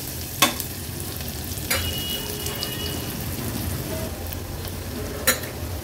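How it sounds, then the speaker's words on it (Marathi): Onion cooks in a little oil in a pan for an Agri Koli-style vegetable curry, giving a steady close sizzle with a few sharp clinks of a utensil against the pan. "कांदा आता मी शिजवून घेते।"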